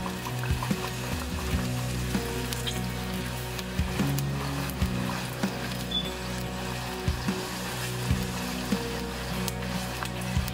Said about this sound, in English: We don't want to fill more than half the surface area of the pot, or the oil will cool too quickly.